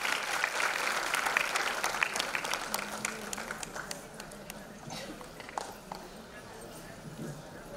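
Audience applause at a women's cultural award ceremony in Vashi, a dense patter of clapping that stays fairly steady and loud throughout, thinning slightly toward the end, with faint talk mixed in.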